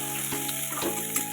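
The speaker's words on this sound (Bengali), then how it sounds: "পেঁয়াজটা একটু ভেজে নেব।" Chopped onion frying in oil with cumin, a steady close sizzle under a faint tonal hum, broken by a couple of scraping stirs.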